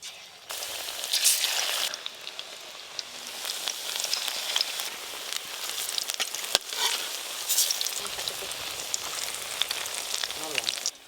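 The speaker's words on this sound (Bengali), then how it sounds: "এক থালা গরম গরম পকোড়া ভাজা হয়ে গেল" Vegetable pakoras deep frying in a pan of oil give a continuous, close crackling sizzle with bubbling spits and occasional scraping knocks throughout.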